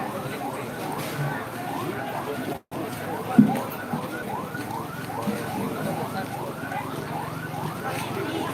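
A fire truck siren wails in repeated rising-and-falling sweeps at a market fire, fairly loud and continuous over crowd noise and general commotion, broken by a brief dropout partway through.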